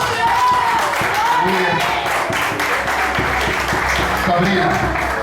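A church congregation claps, dense and steady clapping under loud voices, with speech rising over the applause throughout.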